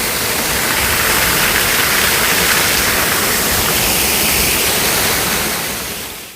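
Waterfall near Cherrapunji in Meghalaya, a loud continuous broadband roar of falling water, unbroken and close, fading out at the very end.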